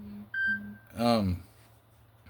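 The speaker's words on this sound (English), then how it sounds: "Phone's beeping." Short electronic phone beeps sound twice, then a voice speaks briefly over a quiet low hum.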